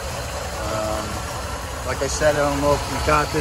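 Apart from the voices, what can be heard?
1961 Chevy Impala convertible engine idling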